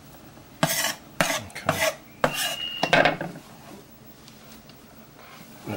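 Knife chopping onion for spaghetti sauce on a cutting board, a run of sharp, close cuts in quick uneven succession followed by quieter rustling, with one short spoken word.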